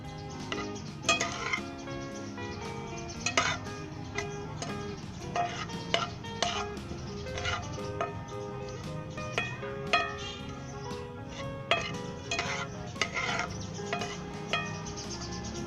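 Cumin, kasuri methi and pomegranate seeds fry in oil in a pan for a Punjabi karhi. A soft steady sizzle runs underneath, with frequent sharp spoon clinks and scrapes against the pan throughout.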